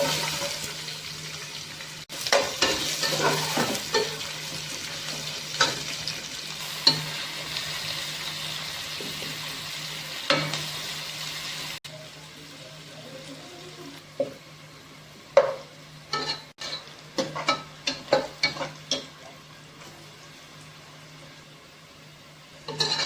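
Onions sizzle and crackle in hot oil with whole spices, a steady hiss with scattered sharp pops and stirring scrapes, no talking.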